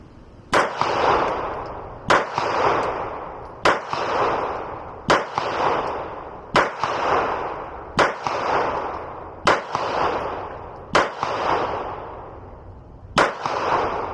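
Nine loud, close 9mm pistol shots from a Taran Tactical JW4 Pit Viper crack out at roughly one-and-a-half-second intervals at a range, each with a short ringing decay.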